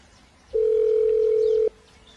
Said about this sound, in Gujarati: મને મારા બોનિયાને ફોન કરવો જ પછી.